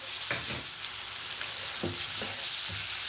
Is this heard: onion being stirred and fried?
yes